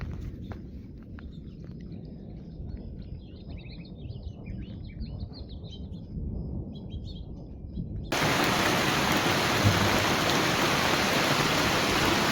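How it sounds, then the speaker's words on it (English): Steady rain falls outdoors during a wild storm, a broad continuous hiss that grows suddenly louder and denser partway through, with faint bird calls in the quieter opening stretch. "You want to hang out here in the rain?"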